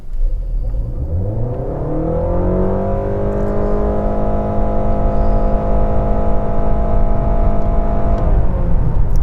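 Inside a 2021 Honda Accord Hybrid Touring, the engine drone climbs steadily in pitch as the car accelerates hard toward 60 mph, then holds a strong, even hum, with road rumble underneath and no voices.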